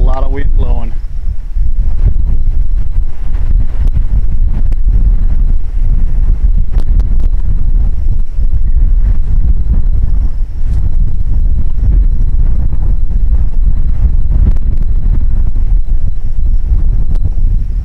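Strong wind buffeting a microphone outdoors at a rifle range with a .223 Remington, a steady loud low rumble throughout with faint rustling and a few soft clicks.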